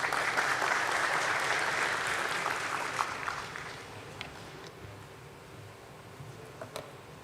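Applause at a stock exchange listing ceremony for a silk retailer, a dense, loud burst of many people clapping that gradually thins and fades, leaving a few scattered claps at the end.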